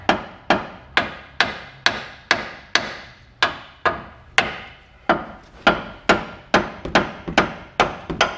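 A hammer taps a ball joint into place on a 2000 Ford Ranger, landing about eighteen sharp, evenly spaced metallic blows that speed up slightly toward the end. The strikes are close and loud, with no talking.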